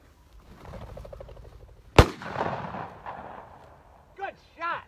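A single loud, sharp gunshot fired while hunting with field bred English cockers, with people talking quietly before and after and brief whistle-like calls near the end.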